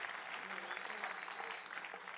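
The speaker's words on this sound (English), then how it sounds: "give him a big round of applause" Faint applause from a live show audience welcoming the bass player, a steady wash of clapping that stays fairly quiet and distant throughout.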